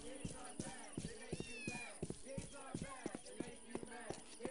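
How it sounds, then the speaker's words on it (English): A cat meows repeatedly in the video game Postal, high wavering cries mixed with steady rhythmic footstep thuds, over faint game background sound. "I'm just walking around with a fucking cat in my pocket."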